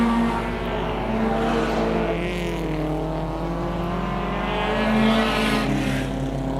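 Race cars roar around the oval at Victory Raceway, a steady loud engine drone with rising and falling revs as several cars circle the track, continuous throughout with no voices.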